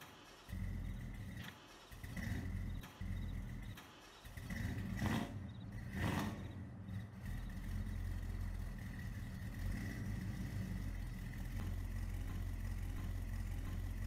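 An old Ford engine, revived after forty years with a tune-up, temporary fuel tank and new long-tube exhaust, runs with a steady low rumble, a couple of brief revs near the middle, then settles into an even idle, close up.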